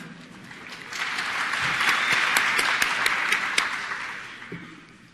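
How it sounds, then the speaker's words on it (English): A conference audience gives a big round of applause in a large hall. The dense clapping swells over the first second, holds full for a few seconds, then thins out as individual claps fade toward the end. "I want to give you a big round of applause for getting up."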